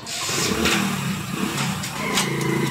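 A Bajaj Boxer motorcycle engine catches and revs, rising and falling a few times in a short burst close to the mic.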